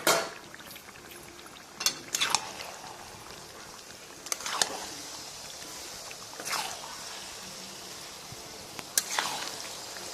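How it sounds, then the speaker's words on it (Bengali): Marinated mutton goes into a hot pan for a Bengali-style curry, bringing a steady soft sizzle and frying hiss with several sharper bursts of spattering and stirring, close up and with no voices. "ভেজে নেওয়ার এইরকম পর্যায়ে ম্যারিনেশন করা মাংসটা আমি ঢেলে দেবো।"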